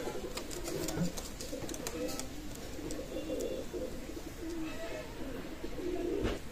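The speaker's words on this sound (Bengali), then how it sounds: "ভিউয়ার্স, আপনারা একটু লক্ষ্য করুন মাশাআল্লাহ কবুতর।" Pigeons cooing in a loft or pen, soft repeated low coos rising and falling across the clip, fairly close and gentle, with a little faint background chatter.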